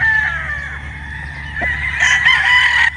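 A gamefowl rooster crows loudly nearby, its drawn-out call rising and holding for a couple of seconds over quiet background noise.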